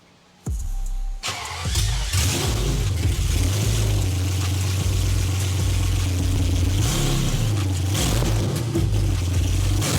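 A BMW E31 engine cranks and catches, then idles loudly with a couple of brief revs rising and falling, close by with no talking.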